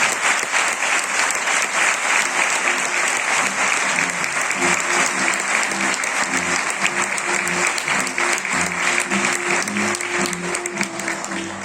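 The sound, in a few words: applause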